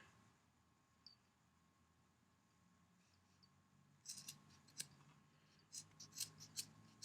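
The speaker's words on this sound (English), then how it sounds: "so we're gonna snip Baruski right here" Scissors snipping at close range, starting after a quiet stretch with a run of sharp crisp cuts in an uneven rhythm, faint against low background noise, no talking.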